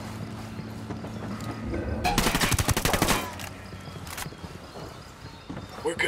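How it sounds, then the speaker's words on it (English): Gunfire in Tom Clancy's Ghost Recon Wildlands video game arrives as a loud rapid burst of shots near the middle, followed by scattered later reports, while a person talks and game background sounds continue. "Taking a shot."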